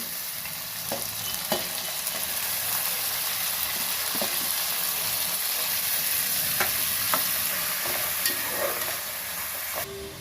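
Sliced onions with a pinch of salt frying in a pan for an Andhra-style brinjal and fish curry, a steady close sizzle with occasional light clicks of stirring.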